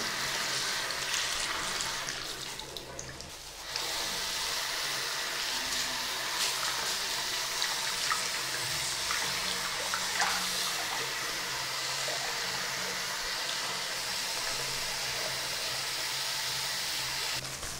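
Plain tap water running steadily over a vacuum cleaner's HEPA filter during rinsing, a broad continuous splashing wash that dips briefly near the start before resuming at a constant, close level.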